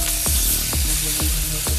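Red onions and red, green and yellow bell peppers stir fry for a steak sandwich, with a constant close sizzle broken by regular scraping strokes of a utensil about every half second.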